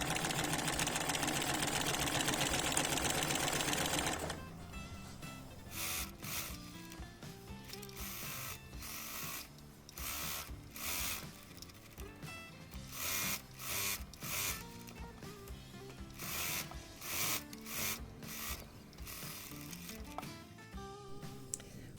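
A sewing machine stitching in the ditch along the side seam around a quilt: a loud mechanical whir at first, then rapid stitching runs in short repeated bursts with pauses between.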